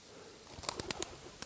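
A pigeon takes off in a short burst of wing flaps, four or five quick claps close together, heard alone over quiet outdoor background during pointing-dog training.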